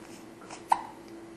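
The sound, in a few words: two-week-old baby hiccuping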